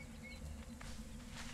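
Insects buzz in Conan Exiles, a continuous droning hum of several flying bugs, fairly quiet and steady over a short stretch with no talking.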